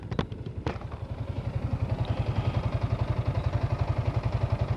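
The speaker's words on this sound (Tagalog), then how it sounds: "Yan, tunog ng makina ko" Yamaha Sniper 155R motorcycle with about 14,000 km on it, idling steadily up close with an even, rapid thumping pulse after a few sharp clicks at the start, no talking.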